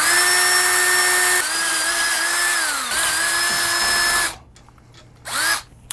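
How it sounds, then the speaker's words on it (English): A power drill bores a small 7/64 pilot hole into a bracket for a lighting workbench, whining loudly and steadily for about four seconds, then stopping, with a brief second burst near the end. "take this pilot bit, I think it's a 7/64, little tiny one, and drill a hole right kind of where the center is"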